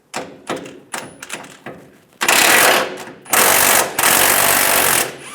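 An impact wrench spins nuts off a rear bumper impact absorber on a 2007-2013 Chevrolet Silverado 1500 with an 18mm socket, first several short rattling bursts, then two long loud buzzing runs close by.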